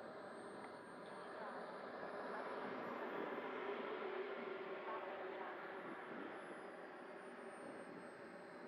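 An Eflite 80mm F/A-18D electric ducted fan model jet with an Xfly 2200kv fan comes in to land at a jets event on a calm day, a steady airy whine that swells in the middle then eases, heard from a distance.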